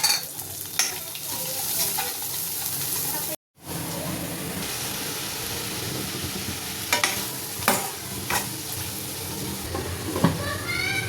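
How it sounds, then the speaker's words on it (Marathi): Mutton frying in oil with ground masala paste in a kadhai, a loud continuous sizzle and hiss with occasional stirring scrapes and clanks, briefly cut out for a moment, no speech. "थोडासा मसाला टाकलाय त्याला हा वाटलेला वाटण चांगलं परतून घेतलंय मसाला तेल सुटेपर्यंत"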